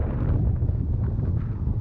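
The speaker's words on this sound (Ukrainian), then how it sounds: "Чудова погода, але вітер в обличчя." Steady low rumbling buffets of headwind against the microphone while cycling, loud and continuous, with no voices.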